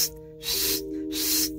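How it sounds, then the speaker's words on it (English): Aerosol spray paint hissing onto a car body in bursts, with a steady background hum, two sustained sprays separated by brief pauses, close and fairly loud. "After spraying, let the paint dry."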